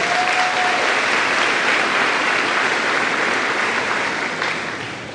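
Steady, dense applause from a large crowd at a high school graduation ceremony, loud and sustained throughout before tapering slightly at the end.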